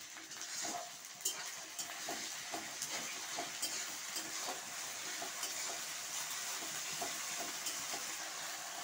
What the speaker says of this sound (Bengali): আর এই যে এটা আদা রসুন জিরে কাঁচা লঙ্কা সব একসঙ্গে আমি বেটে রেখে দিয়েছিলাম, সেই বাটা মশলাটা দিয়ে দিলাম।